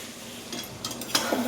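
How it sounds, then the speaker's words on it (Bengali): Fried potatoes tipped into a pan of cooking chicken liver and stomach kosha, a brief soft clatter and scrape with a low sizzle underneath, faint and close. "এবার আমি এর মধ্যে অ্যাড করে দেবো হচ্ছে আলু, যে ভেজে রেখেছিলাম যে আলুগুলোকে, সেগুলোকে আমি অ্যাড করে দিচ্ছি।"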